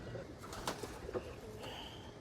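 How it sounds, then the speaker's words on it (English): Pigeons coo softly in a garden, a few low throaty coos close by against a quiet background. "These pigeons, I don't know what has gotten into them"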